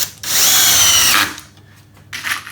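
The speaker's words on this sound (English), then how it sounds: "then I'm just going to screw that into position" A power drill drives a screw into wood on a spice rack project, with one loud, close whirring burst lasting about a second that winds down, then a brief quieter buzz near the end.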